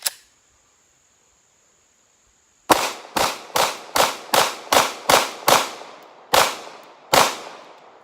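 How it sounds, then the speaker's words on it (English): A CZ P07 pistol fired in rapid succession, about ten sharp, loud, close reports in a fast rhythm with a couple of slightly longer gaps near the end. "we'll see how quick we can put 8 rounds through it"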